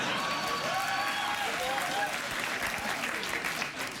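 Studio audience applause on a late-night talk show fills the space, a thick continuous clapping that holds steady with some faint voices and tonal sounds mixed in, tapering a little near the end.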